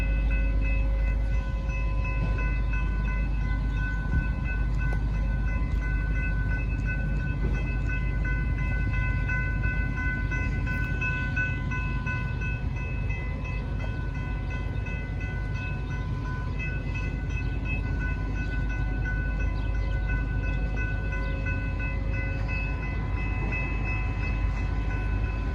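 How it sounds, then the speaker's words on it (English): A train rumbles steadily past a suburban railroad crossing with a deep continuous roar, a level-crossing bell rings throughout, and there is no talk. "It's that train."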